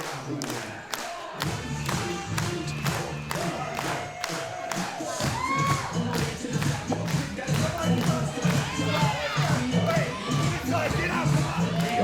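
A pro wrestling crowd cheers and claps loudly around the ring amid heavy thumps and stomps, a dense, continuous roar with scattered shouts throughout.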